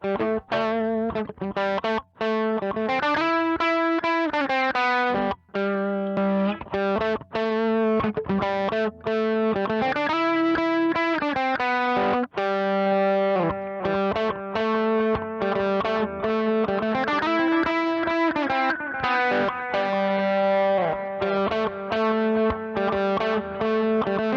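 A distorted electric guitar plays a sustained lead line through a Sonicake Twiggy Blues overdrive pedal, notes bending and gliding, thick with overdrive and a shimmering chorus, loud and continuous.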